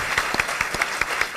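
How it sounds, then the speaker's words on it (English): Audience applause at an awards show, a brief steady patter of clapping with sharp individual claps standing out at a regular pace, fairly close and filling the whole moment without speech. "Let's give them a round of applause."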